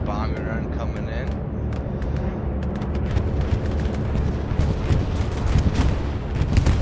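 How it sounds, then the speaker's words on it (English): A bombing run strikes during a Hell Let Loose match, with a dense barrage of booming explosions and crackling gunfire that grows louder toward the end, and voices talking over it. "We got a bombing run coming in."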